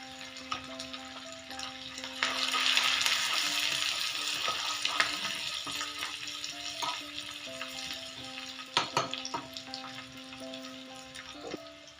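Ginger, garlic, curry leaves and hing frying in hot oil for a dhaba-style dal tadka, a steady loud sizzle with scattered clinks and stirring, no talk.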